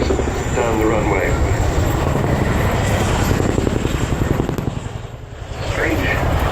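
A large cargo helicopter flies past at the Cosford air show, its heavy rotor thud and engine roar loud and close, briefly dipping before swelling again, with voices talking over it.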